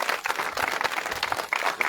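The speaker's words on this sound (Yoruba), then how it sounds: "Pàtẹ́wọ́ dáadáa." A church congregation applauds at a revival gathering in Saki, a dense, steady roar of many hands clapping together that stays loud and close throughout with no clear break.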